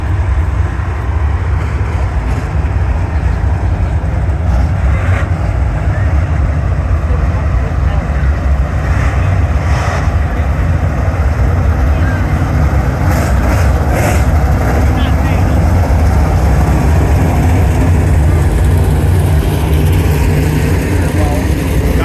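Late model race car engines roar as a loud, continuous drone at a racetrack, with spectators talking nearby over the noise.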